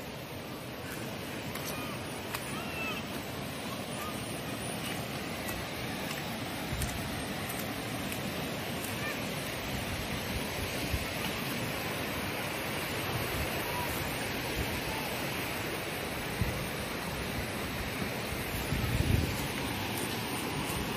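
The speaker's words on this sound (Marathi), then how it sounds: "हा आहे आनंदवाडीचा धबधबा" Anandwadi waterfall near Neral and Karjat in the Matheran hills: a continuous broadband rush of falling water with some wind buffeting on the microphone, steady and close throughout.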